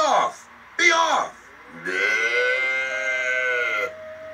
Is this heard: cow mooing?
yes